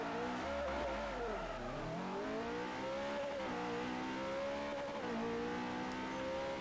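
A race car in Forza Motorsport 4 braking into a corner and accelerating out, its engine note dipping then climbing steadily in a continuous loud whine, with faint tire squeal and no talking.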